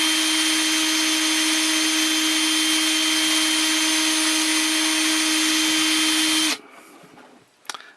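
A drill bit boring through a plastic Transformers Energon Scorponok arm/shoulder part, a loud steady whine that runs for about six and a half seconds and then cuts off, leaving faint handling clatter.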